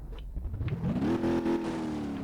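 A car engine accelerates in BeamNG.drive, rising from a low idle rumble into a climbing, steady rev that holds loud and near for about a second before easing off.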